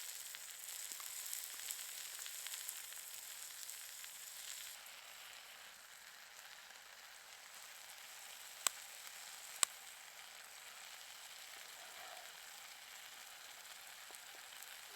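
Steak seasoned with salt and pepper frying on a wood stove outdoors in the snow, a steady faint sizzle and crackle with two sharp pops partway through.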